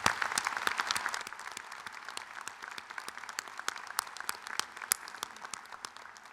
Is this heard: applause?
yes